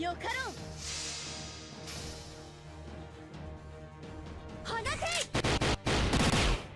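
Gunfire in the mobile game Fate/Grand Order comes as a rapid burst of loud shots near the end, following chiming game effects and a music bed, with someone talking over parts of it.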